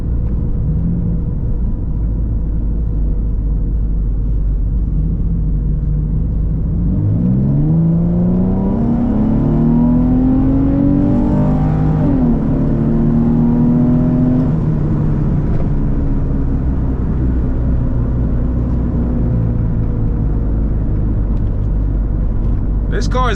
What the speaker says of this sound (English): We're gonna do a little pull.